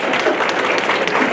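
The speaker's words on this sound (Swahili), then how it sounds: "Pigia makofi." An audience breaks into loud, dense applause, a sustained crowd of clapping hands rolling on without a break.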